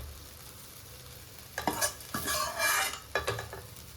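Mint chutney ingredients sauté in a pan with a soft sizzle, broken by a few short bursts of scraping and stirring from a utensil.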